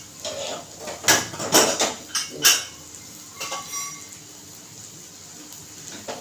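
A pressure cooker is opened in a Maharashtrian kitchen while white peas bhaji is cooked, with a cluster of bright metallic clanks and rattles of the lid, then quieter handling noises.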